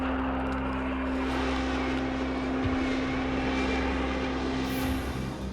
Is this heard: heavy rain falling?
no